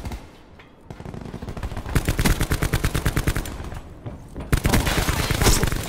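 Rapid automatic gunfire in the video game Call of Duty: Black Ops 4, dense bursts of loud, close shots in quick succession with brief gaps, and a voice occasionally speaking beneath it.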